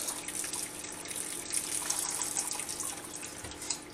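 Water trickling and splashing steadily from a cooking pot as it is siphoned off on a kitchen hob, a continuous close running-water sound with no talking.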